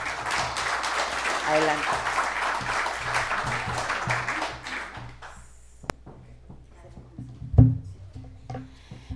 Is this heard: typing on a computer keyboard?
no